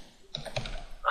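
Short burst of typing on a computer keyboard while coding a game, a few quick close key clicks followed by a louder final keystroke, no talking.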